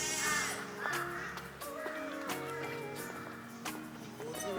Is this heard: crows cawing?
yes